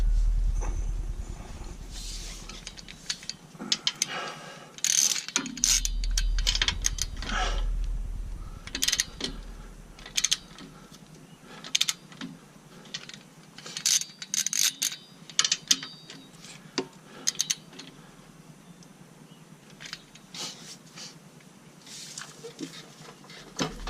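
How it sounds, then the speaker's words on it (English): A torque wrench fitted with a crow's foot tightens the bolts of a Synergy front track bar brace on a Jeep Wrangler JK, giving scattered ratchet clicks and metallic taps against a quiet background. "we're going to try and torque these down to 50 foot-pounds like the instructions say"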